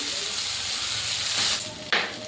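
Boiled potato and carrot pieces hit hot oil with whole cumin, raising a loud, dense sizzle that surges near the end as the pieces settle, close and continuous.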